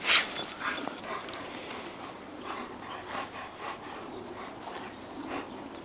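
Airedale terriers out in a snowstorm, panting and giving small whimpers close by, with soft scuffling and breathy bursts spread across several seconds; no talk.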